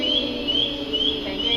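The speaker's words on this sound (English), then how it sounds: "That's the alarm, so he has to shake it so it goes away." A firefighter's motion alarm emits repeated high-pitched electronic chirps at a regular rhythm, loud and close, over a steady background hum.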